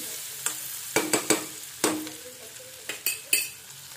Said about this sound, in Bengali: লালচে লালচে করে একটু ভেজে নেবো।